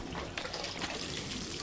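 Clean water sprays in the horror game Mike was Cursed: a steady, close hiss of rushing liquid, like a running tap, that holds for under two seconds without a break.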